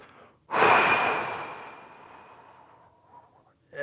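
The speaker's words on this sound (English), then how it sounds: "Breathe everything out." A single long, full exhalation during a desk-worker breathing exercise, starting strong and loud then tapering slowly into a faint, drawn-out breath out, close to the listener with no talking.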